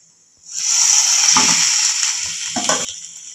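Fried eggs tipped into a pan of sizzling onion masala set off a sudden loud hiss, and scraping, clattering stirs break through it before the sizzle dies down.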